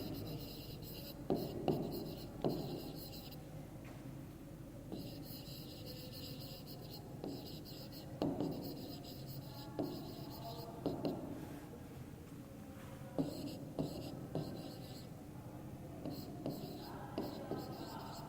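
Pen writing on paper during a class 3 math measurement lesson, heard close as short scratchy strokes in bursts with pauses, quiet and intimate against a faint background.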